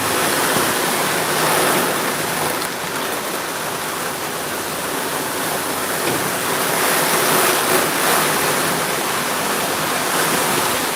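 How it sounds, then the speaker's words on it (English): Pouring rain hisses and drums steadily as a heavy downpour with wind, heard from under a shelter. The dense wash of water stays loud and even throughout, with small surges and no talking. "That is pouring rain, man."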